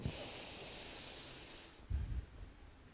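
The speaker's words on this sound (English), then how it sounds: "Inhale for cow." A slow, hissing inhalation during a yoga cat-cow flow, soft and close, drawn out for nearly two seconds before fading into quieter breathy rustles, with no talking.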